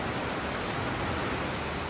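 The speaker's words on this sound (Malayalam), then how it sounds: "എല്ലാം ചെയ്ത് വന്നപ്പോഴേക്കുണ്ട് നല്ല ശക്തിയായിട്ടുള്ള മഴ" Heavy rain pours outdoors where kanal biriyani is cooking in a pot over embers. It is a loud, unbroken roar of falling water with no voices.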